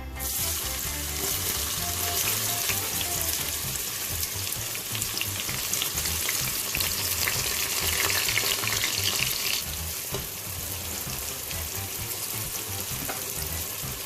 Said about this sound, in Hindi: देखिए ऑलमोस्ट बस प्याज ब्राउन हो गए हैं, गोल्डन ब्राउन